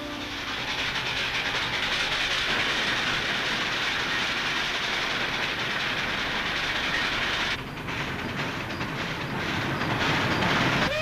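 A 1954-era train rolls along the tracks with a loud, continuous rumble and clatter and a steady hiss, building steadily as it nears.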